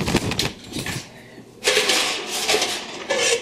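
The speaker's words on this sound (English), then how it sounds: "So I'm going to get a frying pan ready because we're going to saute up some veggies." A frying pan and other cookware clatter and scrape in a home kitchen while veggies are being readied for sauteing, with several loud bursts of metallic handling separated by a brief quieter pause.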